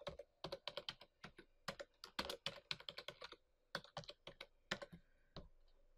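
Login credentials are typed on a computer keyboard in quick, irregular bursts of close, crisp key clicks with short pauses, and no voices.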